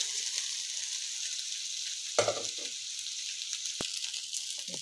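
Rice being fried in a pan for Filipino sinangag sizzles steadily throughout, with a louder burst of stirring or scraping midway and a sharp click near the end; no one speaks.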